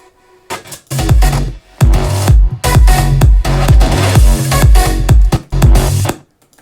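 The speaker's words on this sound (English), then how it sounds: "it's actually just a Spire synth" A heavily processed Spire synth preset plays alone, loud and rhythmic, in repeated punchy bursts with deep bass hits and bright upper layers, pausing briefly between phrases, in a club mix.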